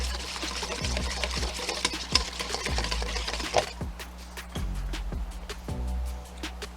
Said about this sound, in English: whisk that up, get it nice and whisked in, add our granulated garlic